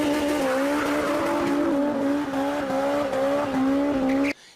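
A Honda S2000 convertible's engine holds a high, buzzing rev, its pitch wavering slightly, then cuts off abruptly just before the end.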